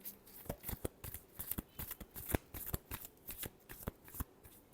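Tarot cards are shuffled close up in soft, rhythmic riffles, a steady run of papery snaps and flutters heard alone in a quiet room.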